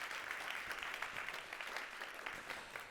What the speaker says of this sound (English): So a quick round of applause for the team.